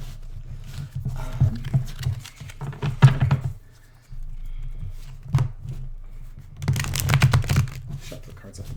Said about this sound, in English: Shuffle the cards up a little bit here.